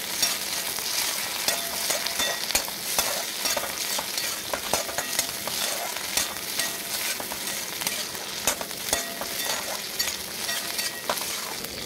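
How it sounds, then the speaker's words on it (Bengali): Tomato is stirred in a frying pan while flattened rice is cooked, a spoon scraping steadily and rhythmically against the pan over continuous close sizzling, with no voices. "টমেটোটা নেড়ে নেব আমি"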